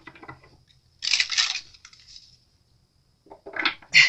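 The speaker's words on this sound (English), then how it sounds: "I'm going to try to shuffle very quietly" Tarot cards are shuffled quietly in short riffling bursts, one longer rustle followed by pauses and a couple of quick flicks near the end.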